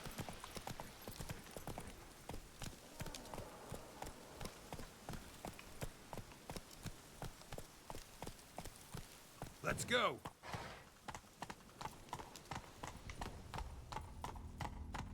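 Horse hooves clip-clopping in The Witcher 3, a steady rhythmic trot of close, distinct hoofbeats running throughout, with a brief louder splash-like burst midway and someone talking over it.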